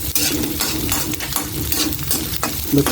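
Onion sautéing in a pan after garlic, a steady close sizzle with scraping stirs and utensil clinks throughout, fairly loud with no talking.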